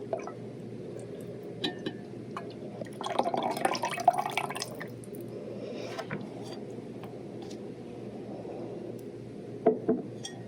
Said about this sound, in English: We are going to pour this into our water and we're going to see what happens.